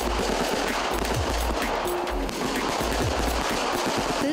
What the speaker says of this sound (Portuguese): Tantas explosões não assustam ninguém por aqui